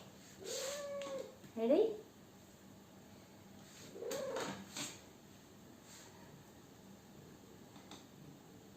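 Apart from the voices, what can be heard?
cat meowing and purring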